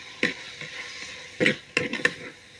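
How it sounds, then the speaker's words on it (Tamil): Ginger garlic and pepper paste sautéing in a pan, a soft sizzle broken by several short scraping strokes of a spoon stirring, close by. "இது நல்லா வதங்கட்டும்"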